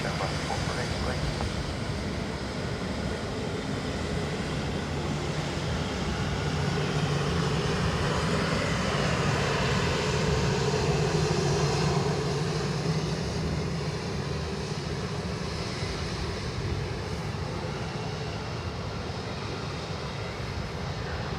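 Aer Lingus airliner, callsign Shamrock 448, taking off from runway 10 right at Dublin Airport: a steady, broad jet-engine roar that swells toward the middle, with radio chatter beneath it.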